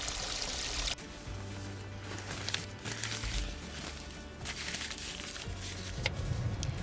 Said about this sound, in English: we're filling up the tub with fresh Alaskan rainwater